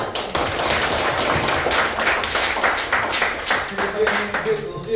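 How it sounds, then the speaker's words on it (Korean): A room full of people at a graduation ceremony in Jeju claps together, dense and steady for several seconds before thinning out, with a voice starting near the end. "박수."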